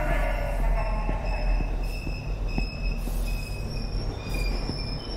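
Metal train wheels squeal steadily in the Ghost Train video game, high sustained screeching tones riding over a constant rumbling rail roar, loud and close throughout.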